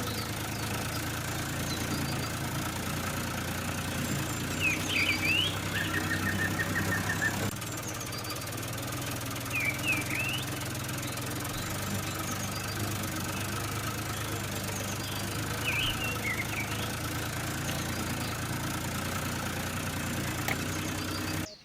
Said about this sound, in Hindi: ये देखो गाइस मिनी ट्रैक्टर ने खेत की बहुत अच्छे से जोताई कर दी है।